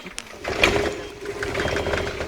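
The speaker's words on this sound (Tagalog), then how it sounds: "Ito malakas na sasakyan." A nearby engine runs with a rough, mechanical chatter, growing slightly louder and steadier over a couple of seconds.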